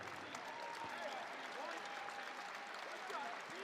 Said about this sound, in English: will get a warm round of applause here on senior night